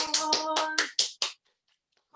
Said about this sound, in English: So round of applause for Yvonne.